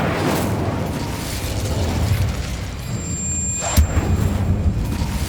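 Incendio fire spell cast in the video game Hogwarts Legacy: a loud, rumbling fiery whoosh that swells continuously, with a sharp burst punching through near the end.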